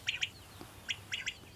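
A male common quail sings faint, sharp calls in quick groups, two notes then a pause followed by a three-note phrase.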